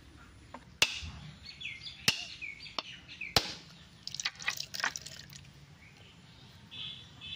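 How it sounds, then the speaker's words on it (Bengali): Coconuts being cracked open in a village kitchen while making Durga Puja naru sweets: four sharp, loud knocks spaced about a second apart, then a cluster of quick dripping and splashing sounds as the coconut water runs out, with no talking. "দেখেন 3টে নাইকল ফাটাইলাম, এই যে 1 ফুটি জল বেরিয়েছে"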